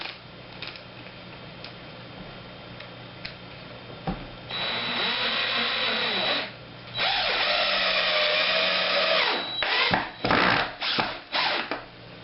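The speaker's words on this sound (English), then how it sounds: "the torque setting is way too high for this application and the drill buried the head of the screw" A cordless drill with its clutch torque set too high drives a screw into wood: a few brief clicks, then two sustained whirring runs of the motor, followed by several short quick bursts as the screw head sinks.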